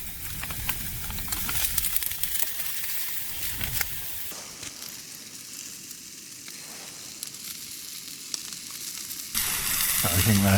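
Bacon frying in a small pan on a camping stove during a sub-zero camp on Dartmoor, a steady close hiss and crackle running throughout with a louder burst near the end.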